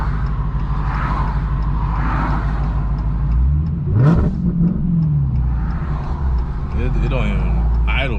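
An 1100hp Red Eye engine runs rough and fails to idle properly just after starting, with a warning code showing. It gives a steady, close mid-pitched drone with a brief rev swell in the middle.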